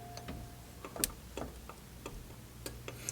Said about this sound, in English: it's got some in and out and some side-to-side shaft play